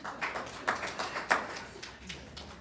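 Scattered, modest clapping from a small audience at a city council meeting in Eastpointe, a handful of separate claps fading over a couple of seconds.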